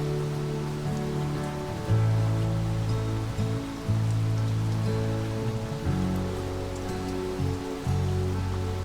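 Steady rain and gusty wind during a motorbike ride near coastal cliffs in Scotland, a continuous hissing wash under a droning hum, loud and unbroken.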